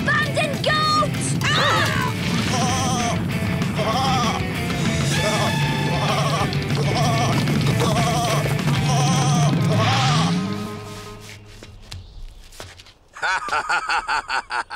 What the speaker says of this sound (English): Abandoned goats!